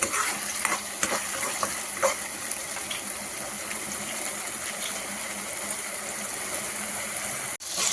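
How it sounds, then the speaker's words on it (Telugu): Tomatoes frying in a pan for an aloo matar carrot kurma give off a steady close sizzle, broken by a few sharp stirring clicks early on, with no talking. "టమాటా వేసేసి ఒక 2 మినిట్స్ బాగా ఫ్రై చేసేసుకోవాలండి"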